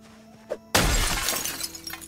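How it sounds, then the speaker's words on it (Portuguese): Glass shatters in a zombie video game set in Alexandria: one loud, sudden crash followed by a spray of tinkling fragments that trails off over about a second. "É mal vidro quebrado."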